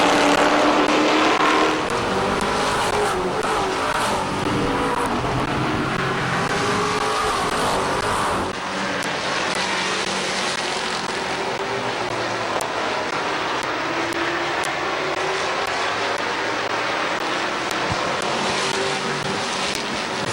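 Dirt-track race cars roaring around Midvale Speedway, a loud, continuous wall of engine noise from several cars running side by side, with the pitch shifting as they pass.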